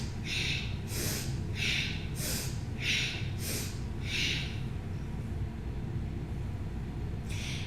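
Kundalini yoga alternate nostril breathing, with a steady rhythm of forceful nasal breaths, about seven sharp sniffing inhales and exhales at even intervals, heard up close over a constant low background rumble.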